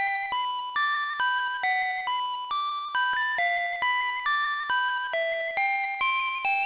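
Game Boy chiptune music from Super Mario Land, a bright square-wave melody of short beeping notes at a steady bouncy rhythm, thin and buzzy, playing alone.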